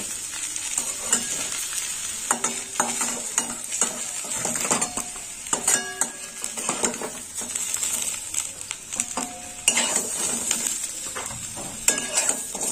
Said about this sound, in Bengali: একটু অল্প তেলেই বেগুনগুলো ভাজলাম।